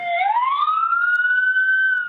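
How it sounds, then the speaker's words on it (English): A loud, close police siren wailing, its pitch sweeping upward and holding steady, with no other sounds. "It begins with police sirens"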